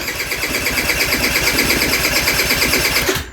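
A 2007 Vespa LX50 50cc scooter with a crank-no-start fault cranks steadily and loudly up close for about three seconds, briefly catching once before it stops, with no talking.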